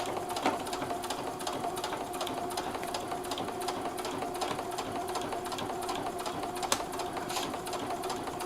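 A sewing machine stitches purse lining through thick layers of fabric and pockets, running at a moderate, even pace with a steady mechanical whir and rapid needle clatter.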